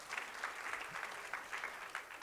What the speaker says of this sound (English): And let's give them all a round of applause again.